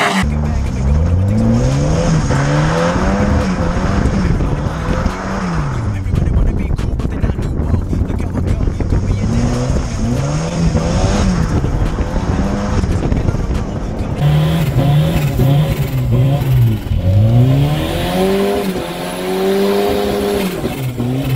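Modified project car of around 300 horsepower revving loud and close, its engine note rising and falling in repeated sweeping pulls, with a brief break before more revs.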